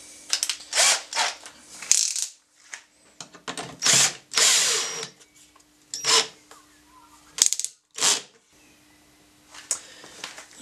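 A power drill drives screws while a small spray booth fan box is built, several short whirring bursts with ratcheting clicks, separated by pauses, close and moderately loud, with no talking.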